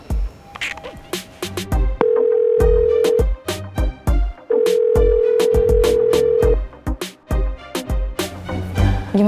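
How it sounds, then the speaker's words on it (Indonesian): An unanswered phone call rings out, with long steady tones repeating at regular intervals. Sharp clicks and thumps come between the rings, and a voice speaks briefly. "Nggak diangkat, Din."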